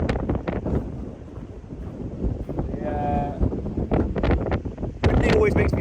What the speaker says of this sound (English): it's extremely windy this morning.